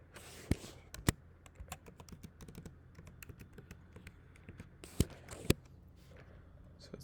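A password typed on a computer keyboard: scattered soft keystrokes broken by a few sharp, louder clicks, close and isolated with no talk.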